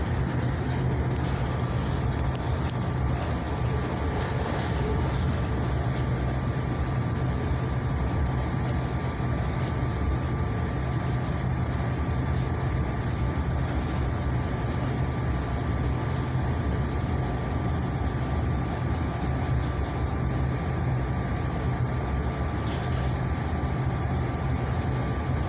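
Aboard an Aeros vehicle, a constant low drone of motor and road rumble fills the ride, steady and close, with no voices.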